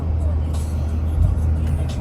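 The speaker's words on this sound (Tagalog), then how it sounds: "Ito ang traffic ng Vegas, moderate lang yan" Las Vegas street traffic heard from inside a moving car as a steady, close low engine and road rumble, with faint passing hiss in the background.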